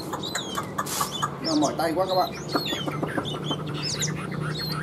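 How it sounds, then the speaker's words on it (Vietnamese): A caged songbird sings in quick, bright phrases close by while someone talks over it in Vietnamese. "các bạn thấy ông hót rất là tốt nhá"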